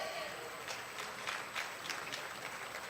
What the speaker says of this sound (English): Please clap for our gold medalists.